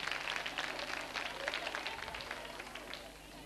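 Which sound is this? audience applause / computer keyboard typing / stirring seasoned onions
audience applause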